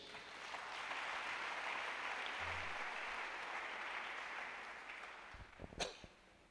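A church congregation applauds during a sermon, a dense, steady clapping that swells and holds for about five seconds, then thins out into a few sharp, scattered claps.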